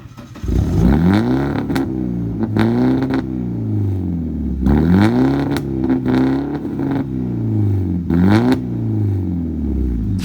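A BMW 318i with a straight-through loud exhaust pipe, its engine revved repeatedly in rising and falling bursts, close and loud, with a few sharp clattering pops between revs.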